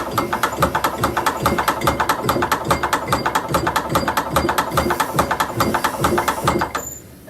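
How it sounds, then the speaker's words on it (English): A hand-cranked CowBoy 8500 rotary hole punch feeds a leather strap through its rollers, producing a rapid, even run of ratcheting mechanical clicks while the handle turns briskly, close and steady for several seconds before it stops. "when you do turn the strap, you want to turn the handle fairly hard or fairly briskly as it feeds the leather through the machine"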